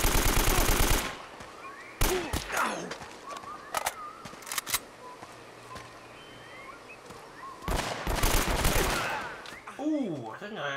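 Bursts of automatic gunfire and scattered shots ring out in a firefight in the video game Uncharted, loud at the start and again near the end, with quieter stretches of game sound in between.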